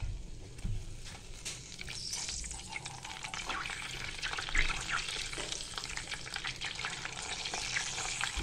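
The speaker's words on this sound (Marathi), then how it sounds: "ते तडतडलं की, पाणी तडतडलं की समजायचं आपण आपलं तूप कडलेलं आहे।" Water is splashed into hot homemade ghee (sajuk tup), setting off close crackling and sizzling bursts that build and pop over several seconds, with no voices.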